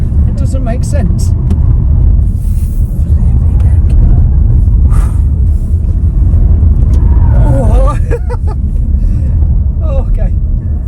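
Tesla Model S Plaid accelerating hard, a loud steady low road and motor rumble with tyre roar throughout, while excited passengers talk and exclaim over it.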